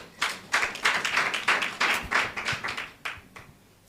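Applause for Mheshimiwa Ngabana at a public gathering: a small group claps in quick, rhythmic bursts close by, ending with a few final claps before quiet.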